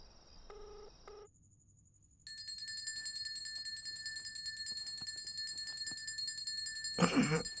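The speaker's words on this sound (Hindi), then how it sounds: "अबे तेरा फोन बज रहा है।" A mobile phone rings nearby with a bright, steady electronic ringtone that starts after a few short tones and continues evenly, ending in a burst of rustling.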